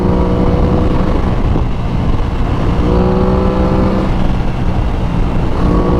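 A brand-new Aprilia Tuono 660 motorcycle ridden on back roads, its engine droning loud and close with rising and falling revs and wind rush, no voices.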